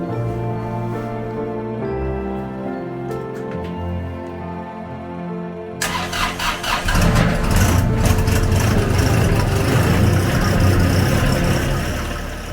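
A John Deere 1025R compact diesel tractor cold-starting in snowy weather: a cranking starter, then the engine catches and settles into a rough, steady idle nearby.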